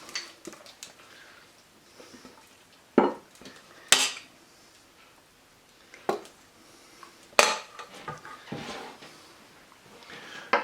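Pasta tossed into a pan for sardine pasta: scattered clattering knocks and scrapes of utensil against pan, with several sharper loud clanks amid quieter shuffling, no talk.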